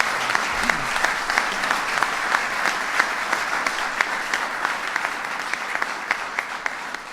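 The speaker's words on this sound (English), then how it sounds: "Give him a big round of applause." Steady applause from a large crowd at a governors' swearing-in ceremony, dense and continuous clapping that holds at an even level throughout.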